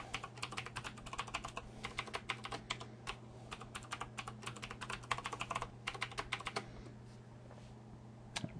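Computer keyboard typing at moderate closeness, bursts of quick key clicks in uneven runs with short pauses, as a username and password are entered during a Linux Mint 15 and Windows 7 dual-boot setup.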